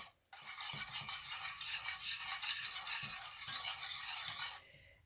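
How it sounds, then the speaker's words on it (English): Butter melts in a pan as the base for a three-cheese Alfredo sauce for seafood, giving a soft, steady sizzling hiss with light stirring scrapes, fairly quiet and alone. "So you want that butter to melt down."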